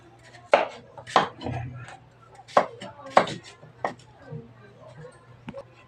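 A knife slicing chayote on a cutting board, several sharp separate knocks at an irregular pace, with faint kitchen noise between the cuts.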